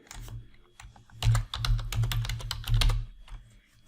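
Fast keystrokes on a computer keyboard while building quiz questions in an online form, steady close clicking in bursts with brief pauses and no talk.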